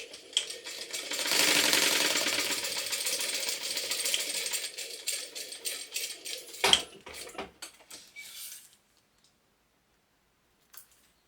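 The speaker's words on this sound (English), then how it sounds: "I like to sew it from the same end." Sewing machine stitching along a clear plastic pouch, a dense run of rapid mechanical clatter for several seconds that breaks into a few separate clicks before falling silent, with one last faint tap.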